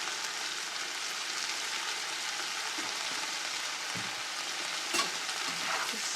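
Potatoes seasoned with chili powder and cumin being stirred in a pan, a steady broadband sizzle with faint scraping stirs and a brief louder clink near the end, close and continuous with no talking.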